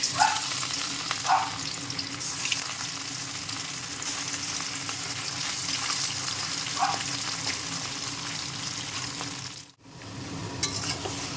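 Taro leaves frying in a tempering of dried red chilli, bay leaf and radhuni seeds, with shrimp planned for the dish: a steady close sizzle with occasional stirring scrapes throughout, dipping briefly near the end.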